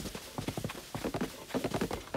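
Horse hooves clip-clopping in The Legend of Zelda: Tears of the Kingdom, a steady run of close, rhythmic hoofbeats with no talk over them.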